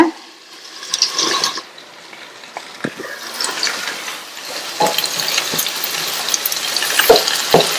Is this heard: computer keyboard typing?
no